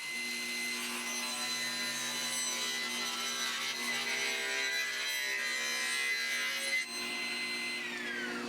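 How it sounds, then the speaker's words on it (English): A small hand saw cuts through a piece of white oak, a steady close rubbing rasp that runs almost unbroken, quiet and alone with no voices. "I cut down a piece of white oak."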